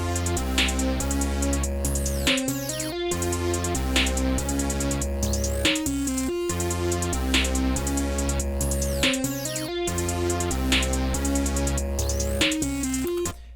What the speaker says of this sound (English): this is what it sounds like with the hi-hat and the snare and the melodies